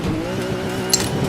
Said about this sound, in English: This is a Mark V Supra, if we're being specific.